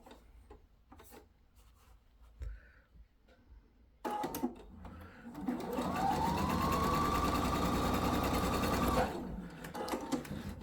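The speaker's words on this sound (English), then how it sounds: "And we're going to sew the seam here on the edge to join them together." Sewing machine stitching the edge seam of a fabric sailor hat: a few soft handling clicks and rustles, then a loud, fast, steady mechanical whirr of stitching for several seconds before it slows and stops, up close.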